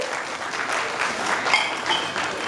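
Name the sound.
audience applause at a talk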